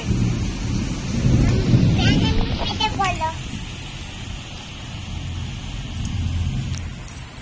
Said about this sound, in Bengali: কত জোর বৃষ্টি হচ্ছে দেখেছো?